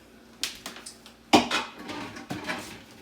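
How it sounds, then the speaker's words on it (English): Shrimp stirred into a finished pot of Creole with the heat off: a few close clanks and scrapes of a spoon against the pot, one sharper knock in the middle, with no voices. "we'll just stir those in"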